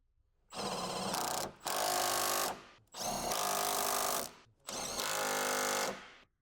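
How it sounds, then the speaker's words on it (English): An electric impact wrench fitted with an 18mm socket and an extension tightens engine and transmission mount bolts on a Ford Explorer. It fires in four loud, close bursts, each about a second long with short pauses between, and no one talks. "Use an 18mm socket with the extension to tighten with the electric impact"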